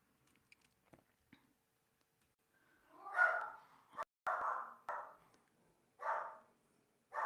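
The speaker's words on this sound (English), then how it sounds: "I just muted because my dog was barking" A dog in a home gives a string of short, faint barks and yips, somewhat distant and muffled, in a quiet room.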